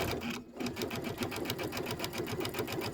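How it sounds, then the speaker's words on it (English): A sewing machine runs steadily at close range, its needle hammering in a fast, even rhythm as it stitches forward and then back-stitches to lock the seam on a pillow project. "gonna sew forward first a little bit and then back stitch and forward stitch"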